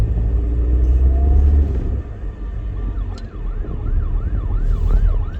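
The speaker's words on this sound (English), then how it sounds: "It's an ambulance." A wailing ambulance siren sweeps up and down repeatedly over heavy traffic rumble, rising in the second half of the clip.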